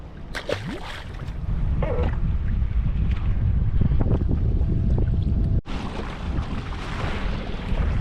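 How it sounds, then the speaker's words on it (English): Steady wind roars across open water on a crappie fishing trip, with a boat rocking and faint knocks and water sloshing near the microphone, loud and continuous with a short dropout. "Wind's starting to get up."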